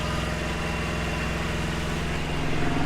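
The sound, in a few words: truck engine running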